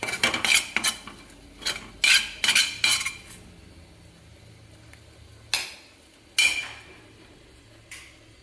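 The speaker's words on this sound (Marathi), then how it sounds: "आता मी ही भाजी काढून घेते।" Cooked methi bhaji is scooped out of a pan with a metal utensil. Sharp clanks and scrapes come in irregular bursts, clustered at first and then sparser, with quiet gaps between them.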